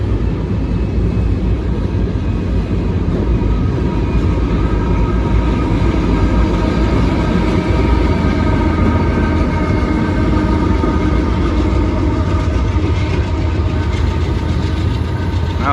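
Freight train rolling across a high trestle over the city of Kenova, West Virginia, a steady loud low rumble with rhythmic wheel clatter and metallic rail squeal continuing throughout, no voices.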